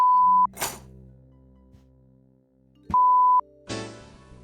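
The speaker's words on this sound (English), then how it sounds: "There's beeps." Two sustained electronic beeps from the 1991 computer game EcoQuest: The Search for Cetus, each about half a second long, separated by quiet game noise and low bursts of sound, fairly loud with no talking.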